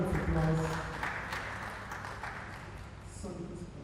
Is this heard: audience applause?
yes